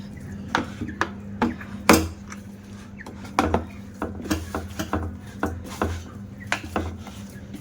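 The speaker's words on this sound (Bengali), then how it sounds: "সাদা তেলটা দিয়ে বেশ ভালো করে ডোটা চটকে মেখে নেব" Donut dough worked by hand with white oil in a bowl makes irregular slaps, squelches and soft thumps, with occasional knocks against the bowl.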